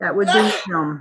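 A single sneeze bursts out during an online board meeting, followed by a drawn-out vocal tail, with people talking around it.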